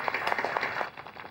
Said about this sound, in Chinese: 大家掌声欢迎